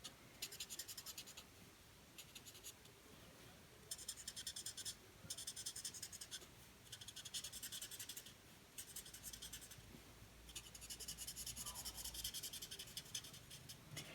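A colour lifter rubs and scratches over paper with a steady, close scraping texture, in several bursts broken by short pauses.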